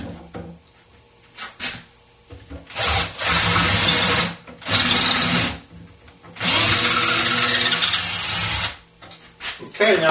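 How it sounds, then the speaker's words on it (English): A power drill boring into a reproduction skull mount for shed antlers, three loud close bursts of whirring drilling separated by pauses and handling noise. "Go ahead and mark it. Hold it. And go ahead and drill it."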